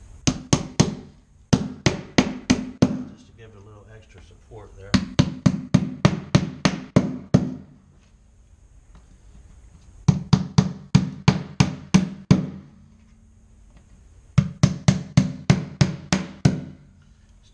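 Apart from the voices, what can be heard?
hammering nails into metal bar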